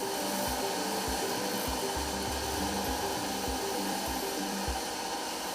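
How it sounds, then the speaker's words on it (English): Sanding machines smooth carved sculptures made from old sandals in a Kenyan workshop, a loud steady motor whine and hiss with repeated low thumps as pieces are pressed against the abrasive. "use these sanding machines to smoothen the sculptures"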